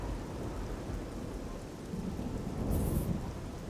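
Heavy rain pours steadily in a fantasy town in the video game Oblivion, a dense hiss under a low thunder rumble that swells toward the end, with no talk.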